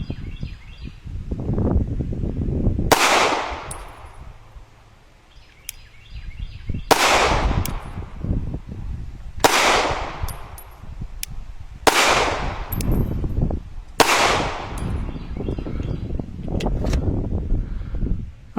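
A CZ Shadow 2 pistol fired with 115 grain reloads, five sharp loud shots spaced a few seconds apart, each ringing briefly, with faint range noise and small clinks between.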